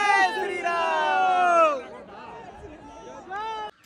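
Crowd of devotees at the Hanuman Garhi temple, a dense murmur of many voices with a loud nearby voice rising above the babble before the hubbub thins out.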